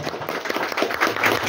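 A crowd at a community felicitation day in Nepal claps in a brief, steady patter of applause, moderately loud and without talk.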